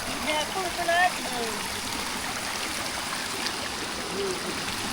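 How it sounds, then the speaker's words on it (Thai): Released water streams steadily down from a flooded rice field into a fish trap, a continuous close rushing flow with a voice speaking briefly over it. "ปล่อยน้ำลงมาปลาลง"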